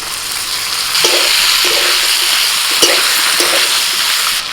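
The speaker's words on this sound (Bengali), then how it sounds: "মশলার সাথে সবজিটা কষিয়ে নিয়েছি" Fried vegetables sautéing in a wet paste of turmeric, chilli and cumin powders in a pan, a loud steady sizzle close up with several soft stirring scrapes against the pan.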